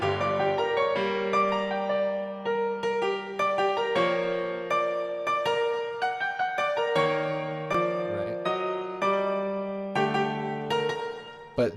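A plain, unprocessed piano plays a flowing melody over repeated low chords, clear and close, with no voices.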